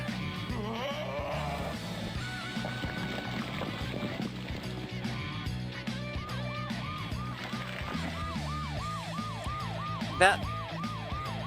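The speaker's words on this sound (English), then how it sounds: "That cop, like, turns on his siren" A wailing police siren in the PlayStation game The Grinch rises and falls rhythmically in the background, looping steadily amid a busy game soundscape with a brief sharp blip.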